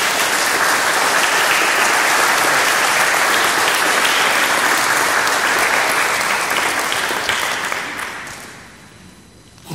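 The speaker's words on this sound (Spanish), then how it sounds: "Fuerte aplauso." Congregation at a Sunday Mass in New York breaking into loud, dense applause, a sustained wash of many hands clapping together that holds steady before tapering off near the end.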